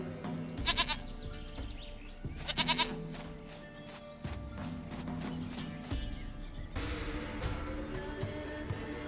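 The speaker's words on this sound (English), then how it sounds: "Goat of mine, dearest, sweetest goat." A goat in The Witcher 3 video game bleats in two short wavering bursts over a busy game soundscape of rumbling ambience and mechanical clatter, without speech.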